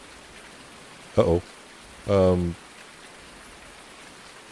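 Steady rain hisses throughout in the video game Farm Sim 19, a constant soft wash of patter under two short spoken interjections.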